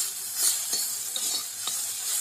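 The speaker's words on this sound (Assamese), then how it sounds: "পানী নিদিয়াকৈ কম জুইত ভাজিব" Banana peel pieces fry gently in a pan over low heat, giving a soft, steady sizzle with a few light stirring scrapes, close and quiet with no talk.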